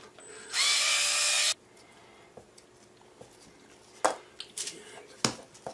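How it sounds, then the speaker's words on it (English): A Black & Decker gyro drill with a 1/4-inch shank bit bores a hole in one loud, steady whine lasting about a second, followed by quiet handling clicks and a few sharp knocks. "Use my trusty Black & Decker gyro drill with these 1/4-inch shank bits."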